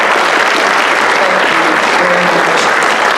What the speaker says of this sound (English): Can y'all give a round of applause to Sheriff Craig and Dr.